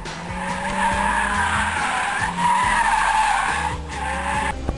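A car drifting through a turn, tires skidding and squealing in long sustained screeches over a loud, steady engine roar, with brief dips between slides; no talking.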